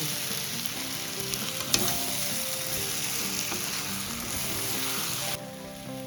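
Chitol fish masala sizzles steadily in a pan as it is stirred, a close continuous frying hiss with a single sharp utensil knock, easing slightly near the end, with no one speaking.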